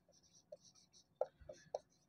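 Chalk or marker strokes on a board during a physics lesson, several short faint taps and scratches in an irregular rhythm, quiet and close in an otherwise hushed room.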